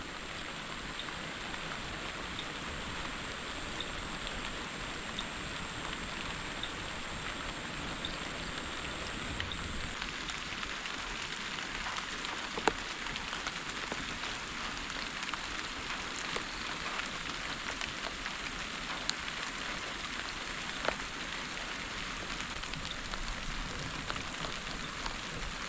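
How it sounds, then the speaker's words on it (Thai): Steady rain falling in a rural field during the rainy season, a constant dense patter with occasional louder drops, heard alone without voices. "ฝนตก"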